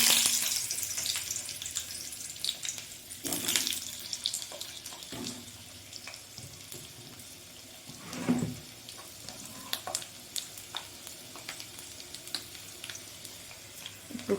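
Potatoes dropped into hot oil in a kadai, a close crackling sizzle with bursts of spattering and scraping from stirring, easing to a steady fry.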